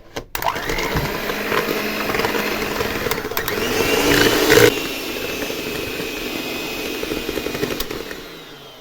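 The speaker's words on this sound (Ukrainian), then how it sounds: "4 яйця і стакан цукру збиваємо." An electric mixer beats four eggs with a glass of sugar for sponge cake batter, a loud steady whir with a rising pitch and a brief surge in intensity before settling back down, then fading at the end.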